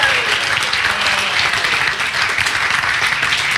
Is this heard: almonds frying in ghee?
no